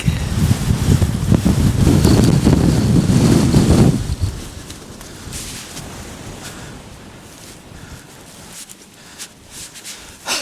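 Strong wind on a barren open hillside in the Peak District near Castleton roars and buffets loudly, then eases into a softer, steady gusting hiss.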